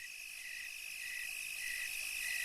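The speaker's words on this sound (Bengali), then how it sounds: "নিশিকালো অন্ধকারের মাঝে শুধু ঝিঝি পোকার ডাক কানে ভেসে আসছে" Crickets trill in a steady, continuous pulsing chorus through a dark night in a ghost-themed cartoon, rising slightly in loudness with no voices over them.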